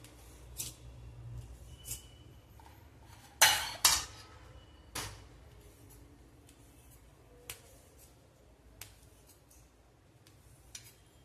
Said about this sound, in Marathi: आळू वडी आपण कट करून घेणार आहोत